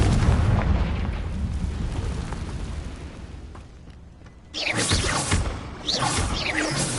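A Confringo fire spell in Hogwarts Legacy goes off as a loud explosive burst, with a long roaring, crackling decay and then a second fiery whoosh and blast near the end, and no voices over it.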